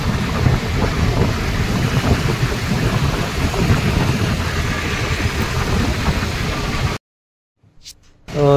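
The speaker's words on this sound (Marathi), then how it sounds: "अजूनही पाऊस लागतोय" Heavy rain falls near Pimpri Chinchwad in Pune, a dense, loud roar buffeted by wind noise on the microphone, cutting abruptly to near silence toward the end.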